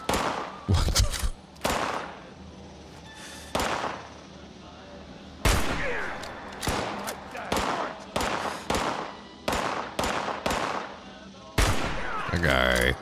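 Bursts of gunfire from Fallout 76 crack out in repeated loud volleys, some rapid and sustained, others single sharp shots, spread across the stretch with brief gaps between.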